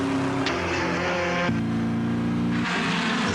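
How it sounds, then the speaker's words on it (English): Race car engine roaring in a television commercial, a loud, steady high-revving drone with abrupt pitch shifts between gears, close and continuous without any voices. "The sound of a car completes the experience. You want to hear those horses."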